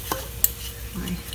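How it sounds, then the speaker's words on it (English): Ground meat sizzles in a pan while being stirred, with a soft crackling hiss broken by a few sharp utensil clicks and scrapes against the pan over a short moment. "So you're just gonna go ahead and fry this meat up."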